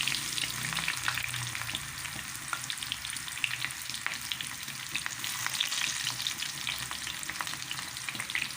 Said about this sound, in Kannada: ಈಗ ಈರುಳ್ಳಿ ಹಾಕ್ತಾಯಿದ್ದೀನಿ ಒಗ್ಗರಣೆಗೆ.